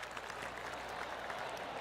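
Gallery crowd in the golf video game PGA Tour 2K25 giving steady polite applause after a birdie chance on the 8th, faint and distant, with no talk over it.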